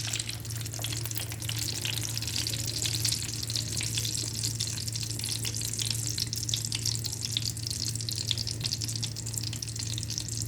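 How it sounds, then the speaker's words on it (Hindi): Pizza paratha mixture fries in a frying pan with a steady, bright hiss and crackle, a continuous close sizzle over a low background hum, without any speech. "और अब इसको हम अपने फ्राई पैन पे डाल दें।"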